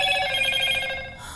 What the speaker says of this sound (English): my phone will not stop going off